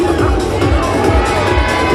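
A crowd at a freestyle motocross show screams and cheers in a dense, steady roar, loud and continuous with no breaks.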